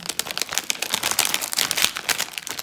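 Plastic packets crinkle and rustle in quick irregular bursts as a LEGO Disney 100 minifigure bag is opened, close and fairly quiet.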